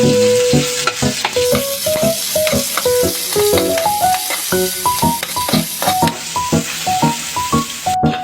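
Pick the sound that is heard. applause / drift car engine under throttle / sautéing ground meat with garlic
sautéing ground meat with garlic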